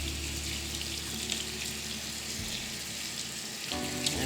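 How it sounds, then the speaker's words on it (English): Tap water pours steadily over French-cut green beans in a kitchen sink, a close, continuous hissing rush whose tone shifts partway through as the beans move under the stream. "Just kind of want to let the water run through them."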